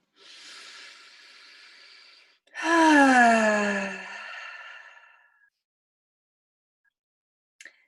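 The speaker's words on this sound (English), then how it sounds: "And breathing." During an EFT tapping session for stress relief, a person draws a deep, airy breath in, then lets out a long, voiced, sighing exhale that fades, followed by silence and one faint tap.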